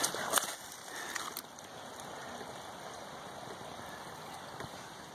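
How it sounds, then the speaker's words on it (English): Faint, sparse drips of sap from a tap in a bigleaf maple fall irregularly over the steady wash of nearby running water, in Bellingham, Washington. "Can you hear the drip, drop, drip?"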